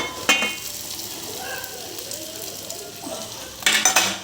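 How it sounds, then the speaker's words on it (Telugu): Carrot and rice being stir-fried in a pan for carrot pulihora, a steady soft sizzle with scraping stirs and a few sharp utensil clinks near the start and end. "క్యారెట్ వేసాను చూడండి ఇదండి క్యారెట్ వేసేసాను నెక్స్ట్ అన్నం వేసుకోవడం"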